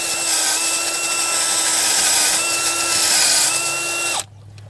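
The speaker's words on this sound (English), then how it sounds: "I'm going to use my power auger drill to drill my holes." A power auger drill boring planting holes in a garden whines steadily at high speed for about four seconds, then cuts off abruptly, leaving quiet.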